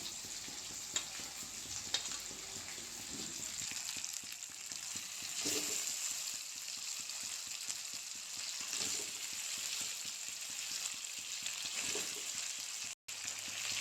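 Pointed gourd pieces sizzle and fry steadily in a pan with fenugreek and chili paste for a fish curry, a continuous bubbling hiss with occasional stirring scrapes, fairly close and alone.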